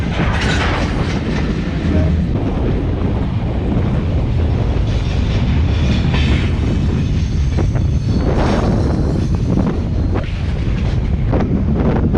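Fully loaded iron ore freight train heading to Nouadhibou across the Sahara rolls past, a heavy continuous low rumble and rattle of wagons, buffeted throughout by strong wind on the microphone.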